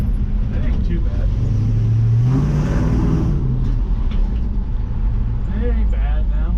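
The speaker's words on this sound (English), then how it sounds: "Got this new exhaust on this thing. It ain't loud, but oh, hang on, we driving." A 1966 Chevrolet C10 with an LS engine swap and Carven exhaust drives along, its engine drone steady and loud throughout with a brief rising rev in the middle, while people talk over it.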